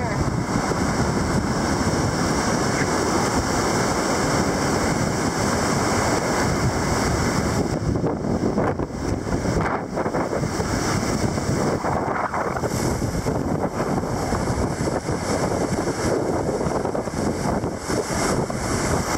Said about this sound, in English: This is a rapid you can swim right from.